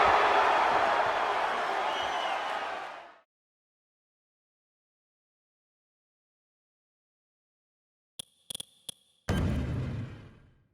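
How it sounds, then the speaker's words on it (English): Roaring crowd cheers in the WWE 2K16 wrestling game during a Stone Cold Steve Austin cutscene, a loud sustained swell that cuts off abruptly, then a few sharp clicks and the cheering returning loud. "This crowd going crazy for Stone Cold Steve Austin"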